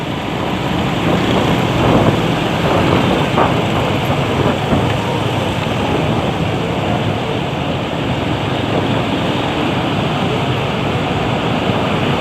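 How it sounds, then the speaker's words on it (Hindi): Steady rain pours down in Karachi, heard as a dense, even wash of hiss from inside a moving vehicle near a Tariq Road underpass, continuous and loud throughout with a low rumble beneath. "अभी बारिश दोबारा शुरू हो चुकी है भैया।"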